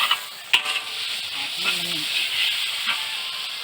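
Pad thai is stir-fried in a wok as fermented soybean paste goes in, producing a loud steady sizzle and hiss with a sharp clank of a utensil, while someone talks briefly.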